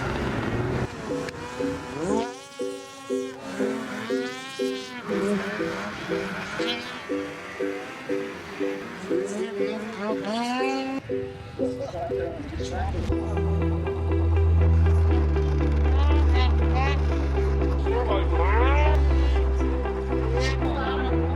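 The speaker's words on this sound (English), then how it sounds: "Now off to the snowmobile races." Snowmobile engines drone loudly at a kids' snowcross race, a steady rumble building in the second half after a stretch of people talking over wind and motor noise.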